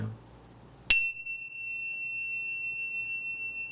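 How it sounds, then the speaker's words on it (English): After a low murmur, a bright bell is struck once and rings on, its clear tone slowly fading over several seconds. "Let's hear the bells again."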